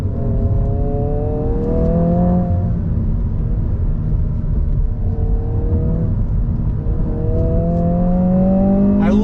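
A 2022 Honda Civic Si engine revs hard while driving on a road, rising in pitch through the gears in repeated sweeps, loud and close from inside the cabin.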